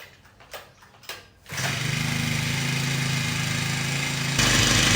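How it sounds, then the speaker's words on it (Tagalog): A gas-powered grass trimmer starts up after some faint handling noises, then runs at a steady loud drone while cutting grass, rising slightly louder near the end. "So, ito yung ating gagamitin. And grass cutter."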